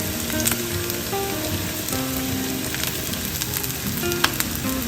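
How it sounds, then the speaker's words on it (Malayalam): Small shallots frying in oil give off a steady, even sizzle with faint crackles throughout, close by and uninterrupted. "കുറച്ച് എണ്ണ ഒഴിച്ചിട്ട് കുറച്ച് കൊച്ചുള്ളി ഒന്ന് വറുത്തിടാൻ"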